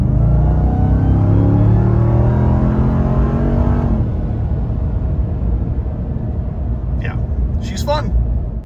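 A RAM TRX pickup truck accelerating, a loud engine roar rising in pitch for a few seconds before settling into a steady rumble, with brief chirps near the end.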